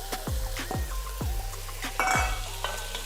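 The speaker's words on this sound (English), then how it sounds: "now I'm gonna go ahead and add my onions now because we want to cook them down just a little bit" Ground beef and onions brown in a Dutch oven, with steady sizzling and frying beneath repeated scraping stirs at a loose rhythm, close and moderately loud.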